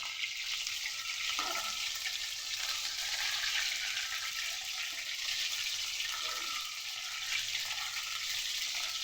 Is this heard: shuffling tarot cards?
no